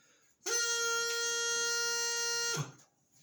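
A single loud, steady high A on a bagpipe chanter held for about two seconds, bright and reedy with a buzzy edge, starting and stopping cleanly.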